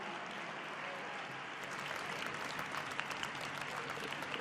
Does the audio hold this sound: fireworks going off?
no